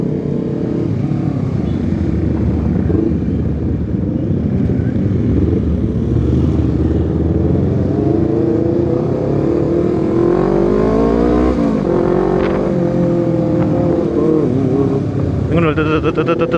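An overheating Honda CBR 250RR motorcycle engine, revving and droning continuously and loudly on the road for the whole stretch, with the rider talking over it.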